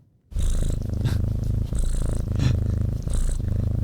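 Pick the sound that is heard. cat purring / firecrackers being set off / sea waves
cat purring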